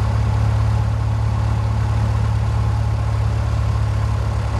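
Cessna 172 piston engine idling at about 1,000 RPM in a flight simulator, a steady low droning hum with a constant rumbling pulse, even and unchanging throughout with no talk.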